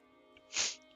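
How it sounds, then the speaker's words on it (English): A single short sneeze bursts out as a breathy, hissing puff over a faint steady hum in an otherwise quiet scene. "Sneezing."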